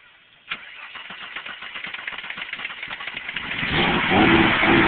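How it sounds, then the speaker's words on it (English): A car engine with a faulty fuel pump cranks in a quick, even rhythm after a sharp click. It then catches and rises into a louder, rough running roar by the end, close by, with no talking. "We are attempting to start the car."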